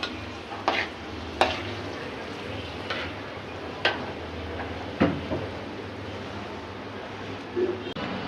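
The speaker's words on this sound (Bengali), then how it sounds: "এই যে রুই মাছ ভুনা করছি" Rui fish bhuna cooks in a pan: a soft, continuous sizzle runs throughout, broken by a handful of sharp spatula clicks and scrapes at irregular intervals, with no speech.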